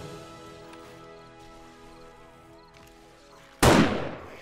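One sharp, loud sniper rifle shot rings out near the end in 7 Days to Die during a horde night, following a stretch of quieter ambient game sound.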